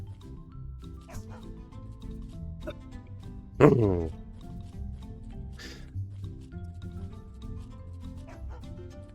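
A dog in the video game Mika and the Witch's Mountain lets out a single loud bark midway, over soft background music, with brief talk nearby.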